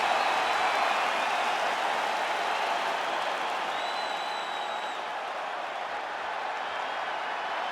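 A capacity arena crowd cheers in a UFC 5 video game before a lightweight championship main event, producing a dense, steady roar of cheering and applause that fades slightly over several seconds.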